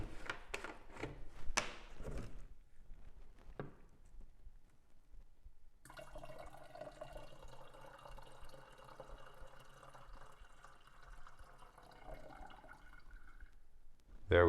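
Silver nitrate solution for wet-plate photography is poured back into a jug, giving a steady, moderately loud liquid pour that runs for several seconds after a few brief clinks and handling knocks.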